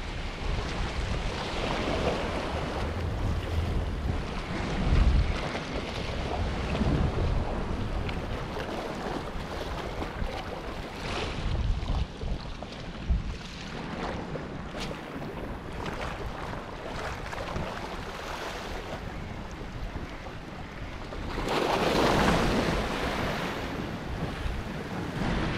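Steady wind roars across the microphone at the shore during shore casting in Lian, Batangas, with surf washing underneath and louder gusts rising and falling over the whole stretch.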